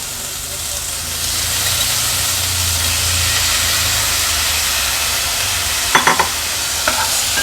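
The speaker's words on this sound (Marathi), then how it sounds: "त्या देखील या मसाल्यासोबतच छान मी परतून घेते" Pumpkin pieces sauté with tomato masala in a pan, giving a steady, close sizzle and hiss throughout, with a few sharp clinks of stirring near the end.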